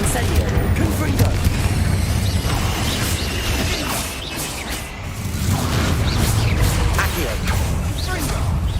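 Incendio and Confringo spells fire in Hogwarts Legacy amid combat, a dense loud blend of fiery bursts, booms and crashes rolling continuously with a brief lull midway.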